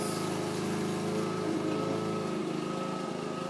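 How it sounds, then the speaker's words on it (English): A lawn mower runs outdoors nearby, a steady droning engine hum with a rough, pulsing rhythm that holds at a constant moderate level throughout, with no voices. "What you're hearing right now is mowing."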